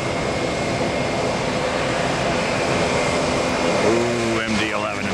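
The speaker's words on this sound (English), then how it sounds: "Ooh, MD-11 in the background." An MD-11 airliner at an airport produces a steady, broad jet engine roar that fills the scene; near the end a voice briefly speaks over the noise.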